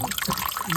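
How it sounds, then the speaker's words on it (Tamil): Running water splashes and trickles steadily from a pipe on the Velliangiri hills pilgrimage route at night, with voices murmuring faintly in the background. "வேற ஒரு ஊரில் பைப்பு தண்ணி வருது"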